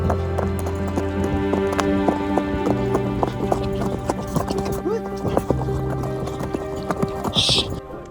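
Horse hooves clip-clop steadily during a sunset horseback ride through the Rose Valley in Cappadocia, Turkey, a close, rhythmic series of hoofbeats with a brief whinny near the end.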